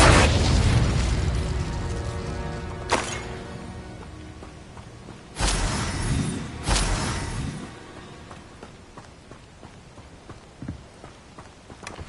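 Confringo explosive spells blast in Hogwarts Legacy. A loud burst opens the clip, and three more heavy booms follow at spaced intervals, each decaying into a rumbling tail, with a smaller pop near the end.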